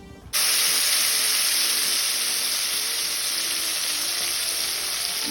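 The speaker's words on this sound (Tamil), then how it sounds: "இப்போ நான் இதில் கரைச்சி வச்ச புளி கரைசலை விடுறேன்." Tamarind extract hits hot oil and erupts into a sudden loud sizzle, then a sustained hissing spatter that stays strong to the end, close up and with no voices.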